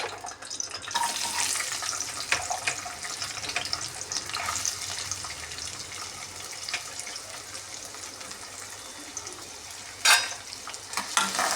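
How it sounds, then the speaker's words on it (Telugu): Tender amaranth leaves fry in a pan for thotakura fry, a close, constant sizzle with light scraping from stirring and a sharp louder scrape near the end, no voices. "ఇప్పుడైతే తోటకూర ఫ్రై చేస్తున్నానండి"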